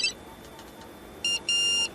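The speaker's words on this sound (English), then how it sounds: "It's my new mobile phone. The latest model, you know." A new mobile phone gives off high electronic beeps: a brief one at the start, then a short beep and a longer one close together near the end, over a quiet background.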